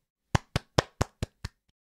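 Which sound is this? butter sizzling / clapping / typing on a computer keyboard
clapping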